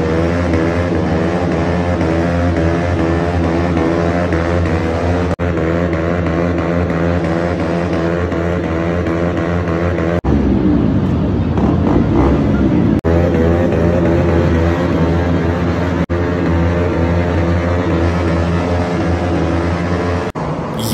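Motorcycles with aftermarket exhausts revving at a supercar meetup in Mohali, a loud, close, continuous engine drone that rises and falls in pitch, broken by brief gaps and a rougher surging stretch midway.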